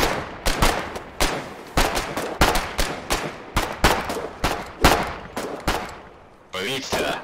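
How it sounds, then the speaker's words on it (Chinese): Gunfire in the video game Foxhole comes as a steady string of sharp, loud shots and short bursts spread across the whole stretch, with a brief different texture near the end. "然后就直接给我开枪。"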